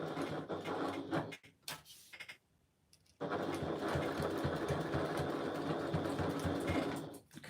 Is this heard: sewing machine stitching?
yes